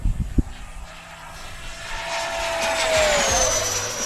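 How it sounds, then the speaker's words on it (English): A Freewing Zeus Maiden RC airplane flies far overhead, its faint motor whine rising into a sweeping tone after a brief bump at the start, steady and distant throughout. "That's me about as far away as I can fly that airplane."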